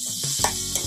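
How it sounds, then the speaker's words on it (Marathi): Onion and tomato sautéing in oil, a brief close hiss with a couple of soft stirring scrapes over one second. "कांदा टोमॅटो हा तेलात चांगला परतून घ्यायचंय."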